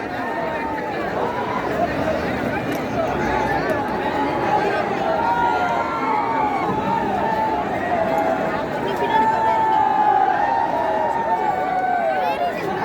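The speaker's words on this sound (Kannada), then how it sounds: "ಎಲ್ಲ ಕಡೆ ಹರ್ಷೋದ್ಗಾರ ಮೊಳಗುತ್ತಿದೆ, ಜಯಕಾರ ಮೊಳಗುತ್ತಿದೆ." Crowd at the Mysore Dasara Jamboo Savari procession, with elephants walking in the parade, makes a dense, continuous roar of voices and cheering, while a commentator talks over it throughout.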